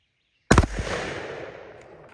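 A 20-gauge shotgun fires a single loud blast at a patterning target outdoors after a silent moment, and the report rolls away in a long fading echo.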